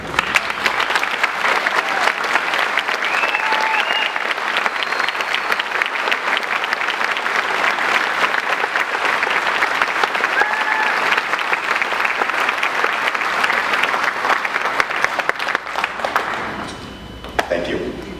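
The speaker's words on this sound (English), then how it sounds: "Would all students with honor sashes please stand and receive our applause." A graduation audience at Park High School gives long, sustained applause to students wearing honor sashes, dense clapping that holds steady before tapering off near the end.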